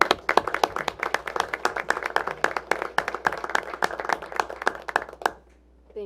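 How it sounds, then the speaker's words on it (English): Applause from a small city council meeting audience honoring volunteers, a steady patter of clapping hands lasting several seconds before stopping abruptly into near silence. "So let's give them all a round of applause if we could."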